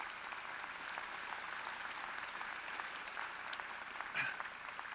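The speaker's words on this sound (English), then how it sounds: "Let's give a round of applause." Steady applause from an audience at a university chancellor's inauguration and installation ceremony, a dense continuous patter of many hands clapping at moderate volume for the full stretch, with a brief brighter burst near the end.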